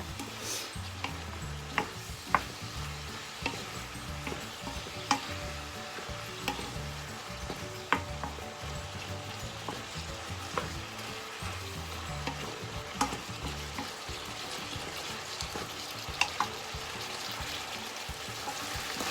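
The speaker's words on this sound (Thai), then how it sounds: "ผัดให้สุกนะคะผัดให้ผักสุกให้ทุกอย่างเข้ากันเนาะค่ะพี่น้องจ้า" Pork and vegetables stir-fried in jungle curry paste, a continuous low sizzle broken by repeated scraping and clacking strokes of a spatula against the pan, heard alone without voices.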